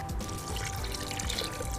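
Water pours steadily into a blender holding soaked paper and rose petals, a continuous close splashing flow for the whole stretch, no talk over it.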